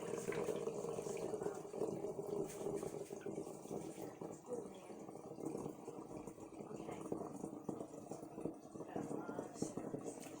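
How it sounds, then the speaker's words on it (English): Faint, continuous rushing of water poured into a container for homemade mango wine, steady for the whole stretch with a low background hum. "So I'm going to pour in my water."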